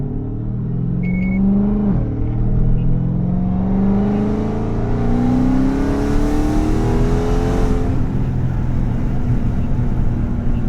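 A Dodge Hellcat engine revs and downshifts, loud and close, its tone rising and dropping in a string of shifts over a constant deep rumble.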